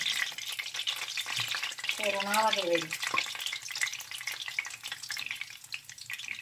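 Yuca and malanga fritters sizzle and fry steadily in hot oil, a continuous crackling bed heard close up throughout, with a brief clatter of utensils and a person speaking Spanish over it.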